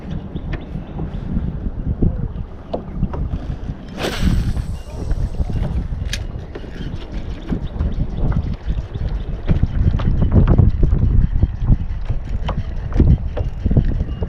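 Wind buffets the microphone while fishing from a kayak on the water, a rough, gusty rumble with scattered knocks and splashes against the hull throughout.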